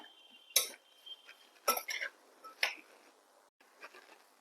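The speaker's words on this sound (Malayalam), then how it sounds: "ഇതെല്ലാം കൂടി നല്ലോണം ഇളക്കി യോജിപ്പിക്കുക." Spoon clinks and scrapes against a bowl while onion salad with vinegar and salt is mixed, a few sharp, separate taps and rattles close by in a quiet room.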